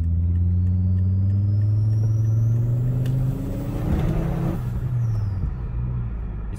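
A modified Volvo 850 turbo car accelerates hard, its loud engine drone climbing steadily in pitch along with a whistling turbo, then easing off near the end. The sound is close and continuous.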